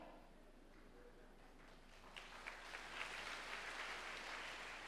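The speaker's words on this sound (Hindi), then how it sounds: "अरे ताली काहे बजा रहे?" Congregation at an annual fasting prayer gathering bursts into applause that swells and carries on steadily, a dense roomy patter with faint voices underneath.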